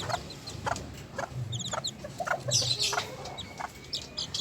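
Two-week-old Sebright chicks and their mother hen in a small backyard coop, with soft repeated clucks and scattered high peeping chirps over a low rustling background.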